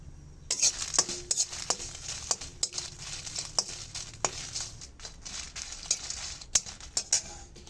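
Whole spices and dried chillies dry roasted in a wok (kadai), with soft pattering and rattling as they are stirred against the metal, plus frequent light clinks of a spatula, close and fairly quiet.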